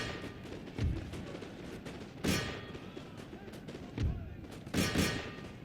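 Musket volleys in an Empire: Total War battle crack out as four sharp reports at irregular intervals over a constant low battlefield rumble, moderately loud and somewhat distant.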